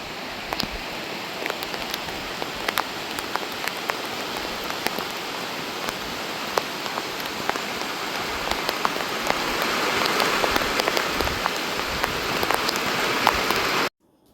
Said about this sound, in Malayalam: മഴ വരുന്നു